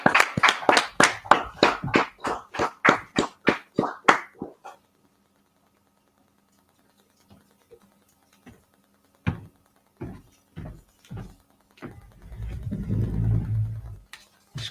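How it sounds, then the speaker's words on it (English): Quick, steady clapping at a class ceremony where students pass to priest and officer rank: about a dozen sharp claps in the first few seconds, then near silence broken by scattered knocks and a low rumble. "Clap it up."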